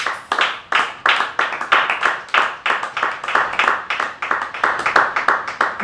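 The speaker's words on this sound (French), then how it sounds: "Acclamons pour le Seigneur." A church congregation claps together in a brisk, steady rhythm of sharp, evenly spaced hand claps, close and fairly loud, continuing throughout.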